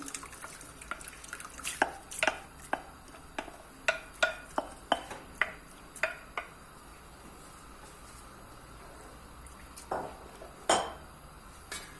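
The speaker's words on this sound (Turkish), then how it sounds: "2 litre suyumu ekledikten sonra ısladığım e, aşureli buğdayımı ekliyorum" Soaked wheat for ashure goes into a pot of water, with a string of sharp clinks and knocks against the pot and light splashing, quiet and spaced out.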